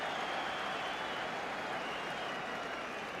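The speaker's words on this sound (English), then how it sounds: "The crowd are delighted at that too." Crowd at a 1984 rugby union match between Australia and the Barbarians cheering and applauding steadily, a broad distant roar of massed clapping and voices that holds at an even level throughout.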